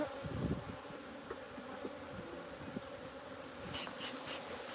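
Honey bees buzz around an open colony while queen cells go into a finisher hive. A dense, steady hum continues throughout, close to the listener, with a few faint knocks and clicks of hive handling and no speech.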